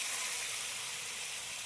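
Chopped tomatoes sizzle in hot mustard oil with panch phoron and dried red chilli, a steady, close hiss of frying for tomato chutney that runs evenly without a break.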